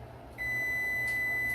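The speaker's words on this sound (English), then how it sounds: "And that was my other timer." A kitchen timer emits a steady, high-pitched electronic beep that starts partway in and holds continuously, loud and close in a quiet kitchen.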